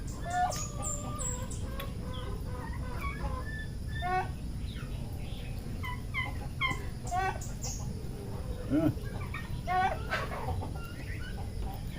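Poultry on a banana farm cluck and chirp in scattered short calls while being fed ripe bananas, with a turkey among them, set over a steady low rumble.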